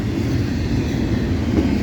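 A Norfolk Southern train led by heritage locomotive 8103 rolls past near Homestead, Pennsylvania, a loud, steady low rumble of wheels and cars filling the whole stretch.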